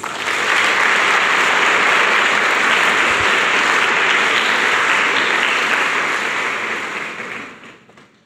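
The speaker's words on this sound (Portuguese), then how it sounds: "Pode aplaudir Pedro." A church congregation at a Lent sermon breaks into loud, dense applause that holds steady for several seconds before tapering off at the end.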